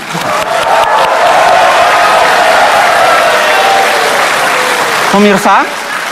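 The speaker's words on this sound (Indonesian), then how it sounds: "Kita tepuk tangan." Audience applause at an Indonesian presidential candidates' debate, a steady loud wash of clapping filling the hall for several seconds, with a brief voice cutting in near the end.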